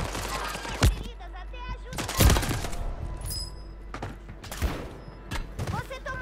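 Gunfire in the Call of Duty video game, with bursts of shots and sharp cracks scattered irregularly, fairly faint and mixed with game effects and distant thuds.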